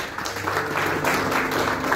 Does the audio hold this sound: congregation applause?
yes